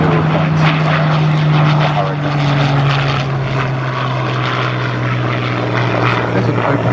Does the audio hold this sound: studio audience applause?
no